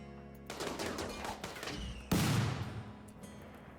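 Bursts of rapid gunfire from the video game RimWorld during a fight against a mech cluster, with a louder heavy blast midway and continuous overlapping shots.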